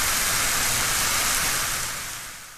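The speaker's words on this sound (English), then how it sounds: "It's rain, except it's actually onions frying in a pan." Onions frying in a pan, used as a rain sound effect: a dense, steady hiss and crackle that holds evenly, then softens toward the end, with no voices.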